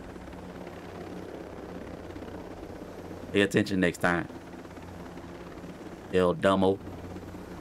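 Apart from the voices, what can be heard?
helicopter flying in video game Ghost Recon Breakpoint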